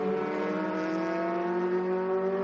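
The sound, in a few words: race car engine not at full revs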